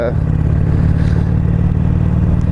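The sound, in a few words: Harley-Davidson Iron 883 motorcycle engine running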